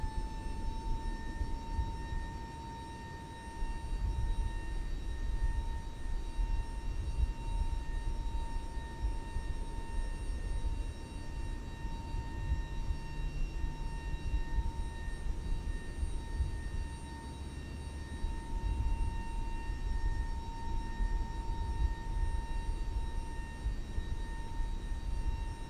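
A Fenix A320 airliner rolls for takeoff in Microsoft Flight Simulator 2024: a steady loud engine roar with sharp whining tones holds throughout, near and continuous, with no talking.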